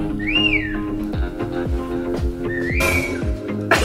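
A person whistles two rising-and-falling phrases over a background of steady music and rhythmic thumps, the whistle close and clear.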